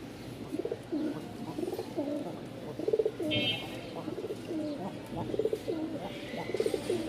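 A male Lal Sundari pigeon coos up close in repeated throaty bursts, each phrase rising and falling in a steady rhythm against quiet background noise.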